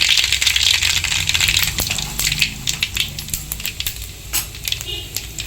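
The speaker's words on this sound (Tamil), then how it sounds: "எண்ணெய் நல்லா காஞ்சிச்சிங்க. கடுகு போட்டுடலாம்." Mustard seeds fry in hot sesame oil for a fish kuzhambu, starting as a dense sizzle and breaking into sharp, scattered popping crackles that grow sparser toward the end, close and fairly loud.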